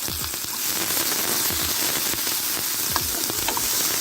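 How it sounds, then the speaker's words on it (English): Shrimp submerged in hot oil for an Asian shrimp noodle dish fry with a loud, continuous sizzle and crackle. Sharp pops break through the steady hiss from start to finish, and no one speaks. "you notice the oil at the right temperature like how we like it, so we'll just submerge these shrimp."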